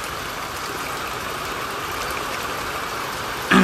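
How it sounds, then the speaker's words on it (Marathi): Heavy rain pours steadily outdoors beside a main road, a dense, even hiss with no pauses and a brief louder burst at the very end. "पाऊस जबरदस्त वाढलाय"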